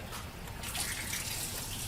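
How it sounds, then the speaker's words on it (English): A Kangen water ionizer dispenses a steady, soft stream of water, a continuous faint hiss and splash that grows slightly stronger partway through. "go through the process of turning on the Kangen machine."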